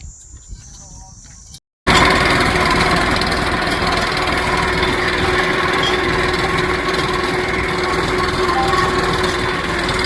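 A tractor engine runs loud and steady with a constant drone that fills the scene, starting after a brief, quieter opening where a voice is heard before a short gap.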